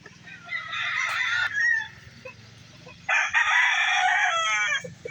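Gamefowl rooster crowing twice, loud and close, with a low rumble and someone speaking quietly in the background.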